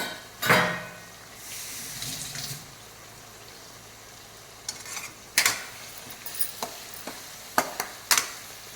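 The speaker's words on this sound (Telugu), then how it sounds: "ఈ వంకాయ బాగా ఫ్రై అవ్వాలండి, లేకపోతే పచ్చి వాసన వస్తుంది." Brinjal pieces frying in a pan for a crab curry, with a faint low sizzle under intermittent scrapes and clinks of a spoon against the pan, some sharp and close.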